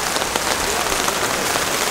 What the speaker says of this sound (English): It's hailing, dog.